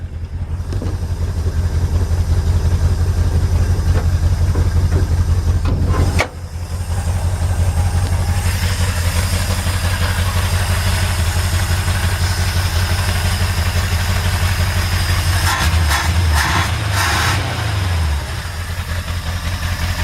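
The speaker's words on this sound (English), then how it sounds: "the engine's just not running tip-top" A 1958 Chevy truck engine idling roughly with a carburetor that may need rebuilding, a loud close low rumble that briefly dips midway and wavers unevenly near the end.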